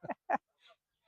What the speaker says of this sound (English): You hear the geese in the background.